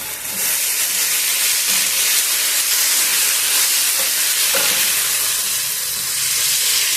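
Eggplant curry with curry leaves and coriander sizzles steadily in a pan as it is stirred, a loud continuous frying hiss with faint scraping strokes and no voices.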